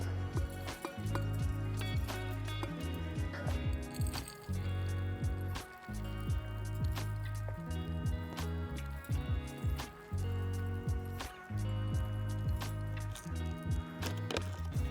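Aquarium soil substrate is poured into a small glass vase, giving repeated soft granular rustles and gritty trickles in short bursts over a steady low background hum, close and fairly quiet.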